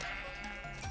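A sheep bleats in the Minecraft video game, a single drawn-out wavering bleat lasting about a second, fairly quiet and heard alone.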